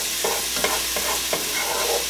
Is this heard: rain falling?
no